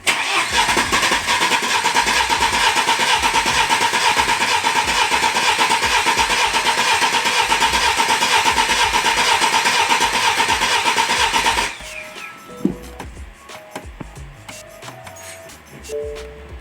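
A BMW 118d E87 with its N47 diesel engine cranks and runs loudly for about twelve seconds before cutting off abruptly, followed by quieter clanks and handling noises in the workshop.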